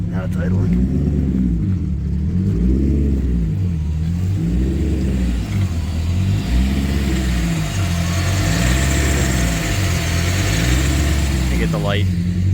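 BMW E34 engine idling in a garage after a power steering pulley install, a loud, close, steady low rumble with a slight rhythmic wobble, under occasional talk.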